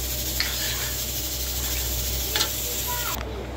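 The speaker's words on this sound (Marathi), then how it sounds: "हे बघा, आता भाताला आपली उकळी आली आहे" Jeera rice and salted water coming to a boil in a pot on the stove, a steady close bubbling hiss that runs unbroken, with a few faint clinks near the end and no talking.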